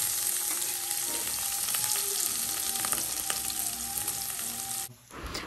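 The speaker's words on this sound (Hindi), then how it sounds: "इसको हम अच्छे से मीडियम टू लो आँच पर इसको बनाना है पूरी सब्जी को, और इसको हम भूनेंगे" Boiled potatoes fry in a pan over medium-low heat, giving a steady, close crackling sizzle with faint scattered pops. The sizzle runs for about five seconds before briefly dropping away.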